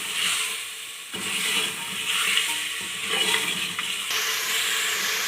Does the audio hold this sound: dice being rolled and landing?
no